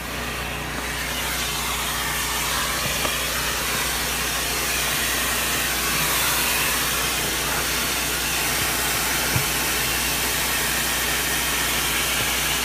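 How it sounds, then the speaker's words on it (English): A vacuum cleaner runs continuously inside a car, cleaning black carpet under and around the front seats, a steady loud whooshing hiss with no pauses and no talking. "after we're done vacuuming the front, we'll scoot the seat all the way up, we'll go up under the seat, and we'll vacuum out the rest of this"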